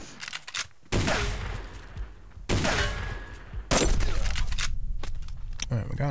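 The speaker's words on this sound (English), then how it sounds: "Can't believe I'm not killing that guy with my rifle." Lever action rifle shots in the survival game Subsistence: three loud, sharp blasts spaced roughly a second or more apart, each followed by a sustained ringing tail, with game ambience in between.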